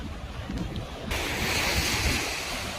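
Sea waves wash onto a beach in Busan, South Korea, close by, a rushing surge that swells midway, with wind buffeting the microphone.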